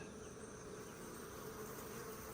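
A steady, low hum of many honey bees buzzing continuously in an opened hive, quiet and close, with no voices.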